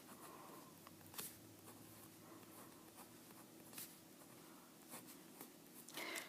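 A formula being written by hand, with faint, close scratching pen strokes in short bursts and pauses, alone in a quiet room.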